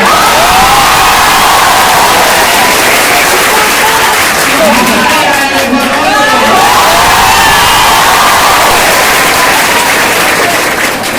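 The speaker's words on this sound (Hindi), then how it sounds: "बिहार शरीफ की इस पूरी धरती के लिए एक बार जोरदार ताली" A large seminar crowd of students in Bihar Sharif claps and cheers loudly, with whoops and shouting in a dense, continuous roar of applause.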